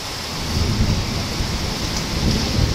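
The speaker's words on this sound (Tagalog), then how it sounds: "Grabe, ang lakas ng ulan." Heavy rain pours down with rumbling thunder at a building site with a roof gutter, a loud, steady, close roar of rain that swells slightly as the thunder rolls.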